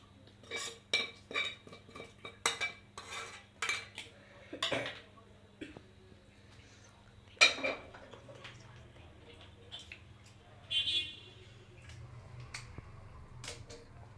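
Cooked noodles are served onto plates with utensils, scattered light clinks and taps of metal on dishware spread across a quiet kitchen, louder at first and then sparser.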